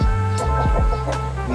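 Chickens cluck close by in short, choppy bursts over a steady low hum, with no talking.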